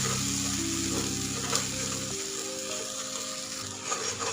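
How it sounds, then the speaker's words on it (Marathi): Ground masala paste frying in oil in a pan for Marathi katachi amti, a steady close sizzle with soft stirring scrapes and no talking. "आपण जे वाटण बनवून घेतलं होतं हे सुद्धा आपल्याला तेलामध्ये टाकून घ्यायचंय"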